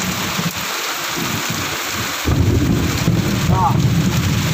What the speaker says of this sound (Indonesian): Pada petang hari ini hujan lebat di tempat saya ni.